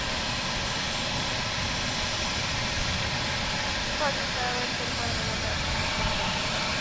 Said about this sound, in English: And yep, the aircraft, the American is taking the active now.